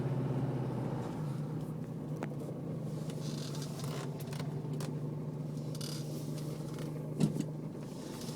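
A 2006 Jeep Liberty CRD diesel idles with a steady low drone that holds its pitch the whole time, with faint interior clicks and a soft bump near the end.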